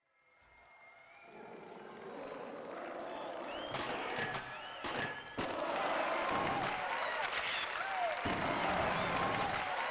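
Crowd cheering and applause in Tony Hawk's Pro Skater video game, a steady swelling roar with scattered whoops, growing louder and dense throughout.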